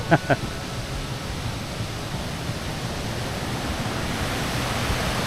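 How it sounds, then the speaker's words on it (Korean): A steady, broad rushing roar of a partly artificial waterfall in a canyon in Guangdong, China, fills the whole span at a constant level, with two brief taps at the start. "이게 사실은 반은 인공폭포인 거야."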